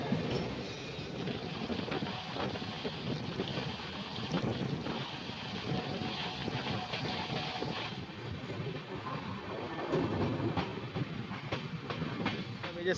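A passenger train runs along the tracks on a long journey toward Dibrugarh, its steady rumble and rattling joined by repeated clickety-clack beats throughout, heard from inside a nearly empty carriage with some faint wind noise.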